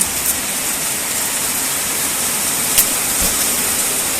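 Heavy rain pours steadily over a farmyard garden, a dense even hiss with no break, close and loud, with a couple of faint knocks in the background.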